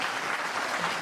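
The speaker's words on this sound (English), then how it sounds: "Just raise your hand and give them a round of applause." A banquet audience applauds for an alumni scholarship event, a dense, even wash of many hands clapping at moderate distance, brief and steady with no voices over it.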